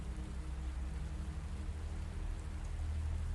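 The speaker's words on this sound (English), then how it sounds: "The rain falls differently at Myrtles Plantation." Steady rain falls on a plantation at night, a dense, even hiss with no breaks, low rumbling underneath and no voices, heard at moderate distance and fairly soft.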